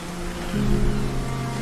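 Steady rain hisses over water in a video game, with a low rumbling drone beneath, continuous and fairly close, with no voices.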